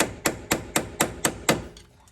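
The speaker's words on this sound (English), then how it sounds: "Now I'm hitting it with a small hammer." A small hammer strikes the tie rod of a 2JZ-swapped MK3 build six times in an even, quick rhythm, each blow a sharp, close metallic tap, followed by a couple of fainter taps as the strikes trail off.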